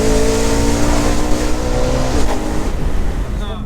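BMW E46 M3 with an Evolve tune driving, its engine a steady loud drone with a rising rev sweep, heard from inside or close by with continuous road and wind rush.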